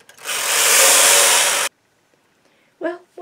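A knitting machine carriage runs across one row in a single loud, smooth whoosh lasting over a second, then cuts off abruptly. A brief voice follows after a short silence.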